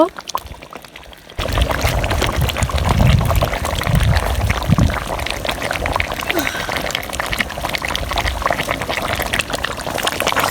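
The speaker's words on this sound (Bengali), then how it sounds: "মাংসটা প্রায় সিদ্ধ হয়ে গিয়েছে এখন আমরা আলু দিব" Potatoes tipped into a pot of nearly cooked beef curry: after a quiet start, a loud, close rush of liquid and bubbling simmer that continues steadily to the end.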